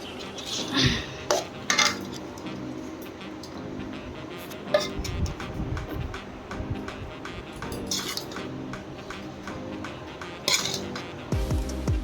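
In a Bengali village home, a mother serving food sets off scattered clinks of cutlery on dishes and clattering pots and plates, sharp irregular taps rising from a quiet room with low background murmur.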